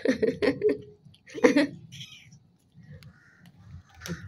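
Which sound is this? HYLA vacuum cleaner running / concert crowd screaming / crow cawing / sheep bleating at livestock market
crow cawing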